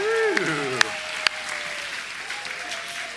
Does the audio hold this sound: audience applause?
yes